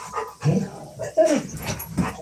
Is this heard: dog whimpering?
yes